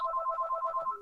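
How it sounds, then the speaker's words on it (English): A telephone rings during a city planning and housing committee meeting, a steady electronic ringtone trilling in rapid repeated pulses for the full second, fairly loud and alone with no talk over it. "sorry, the phone's going off."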